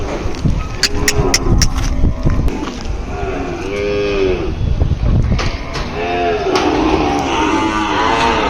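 Ongole cattle and calves moo several times at the Kodad bull market, low drawn-out calls spread across the clip, with background noise and some clattering throughout.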